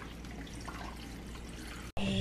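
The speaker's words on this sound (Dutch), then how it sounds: "En koud water doen we erin." Cold water poured into a spinach smoothie in a home kitchen, a steady close liquid wash for about two seconds, then a brief cut and a louder splash at the end, with no talking.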